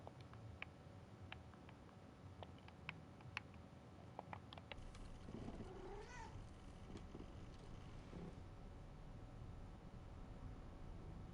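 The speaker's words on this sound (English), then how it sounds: "You guys heard that cat too" A cat meows a few times at a distance, faint and brief, under a steady hiss of background noise and low rumble, with scattered soft clicks.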